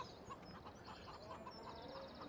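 Chickens cluck repeatedly on a farm in the video game Farming Simulator 17, a steady stream of short, moderately close clucks over a faint ambient bed.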